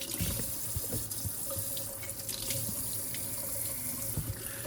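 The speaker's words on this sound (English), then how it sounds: "First I'm gonna run some hot water." Steady hiss of a faucet running hot water into a sink, continuous and fairly close, with a few faint clinks, no voices.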